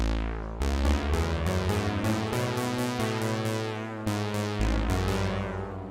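A dense patch from an Akai Jura synthesizer in standalone mode plays a steady sequence of chords and rhythmic notes, loud and continuous, with bright layered tones throughout.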